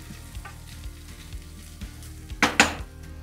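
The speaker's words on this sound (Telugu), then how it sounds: "అల్లం వెల్లుల్లి పసుపు వేసేసి ఒకసారి మంచిగా మిక్స్ చేసుకోండి." Ginger, garlic and turmeric sizzle in a pan for paneer biryani, a soft continuous frying hiss broken by light scraping strokes and two sharp metallic clinks of the spoon near the end.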